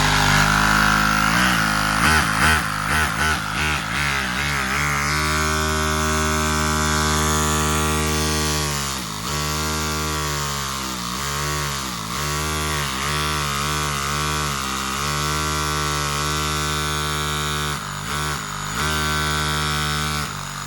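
A small Lego vacuum engine with a small flywheel runs continuously, close and loud, a buzzing mechanical drone whose pitch repeatedly dips and recovers as the speed surges and sags.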